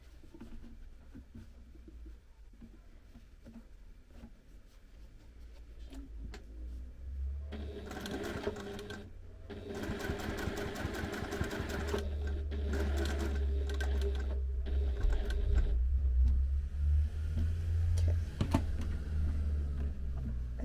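A sewing machine stitches the final seam of a fabric case, a steady motor hum that starts softly and grows louder and denser after several seconds, running continuously to the end.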